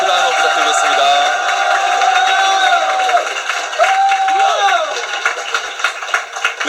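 Crowd cheering and shouting at a youth wing induction ceremony for a political party, a sustained loud roar of many voices with whoops, under an announcer's voice.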